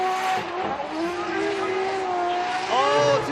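A Team Valino N Style Toyota GR86 drift car at Formula Drift Japan 2024 screams at full throttle while sliding at a big angle, its engine note wavering and climbing loud and close, with tire squeal underneath.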